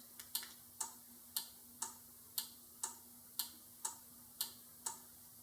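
A steady series of sharp, evenly spaced clicks, about ten in all, fairly faint over a low hum, with no voices.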